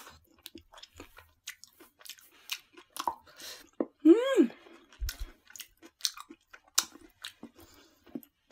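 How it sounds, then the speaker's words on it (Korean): Someone eats sweet potato vegetable pizza topped with crunchy paprika: close, moist chewing with repeated soft crunches and bites in an irregular rhythm, with a brief voiced sound midway and quiet pauses between mouthfuls. "파프리카도 아삭아삭하게 씹히고"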